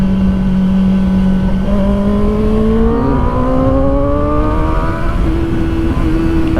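A Kawasaki Ninja ZX-4RR motorcycle rides fast on wet, rainy roads, its engine note climbing steadily in pitch as it accelerates, loud and close over constant road and wind roar.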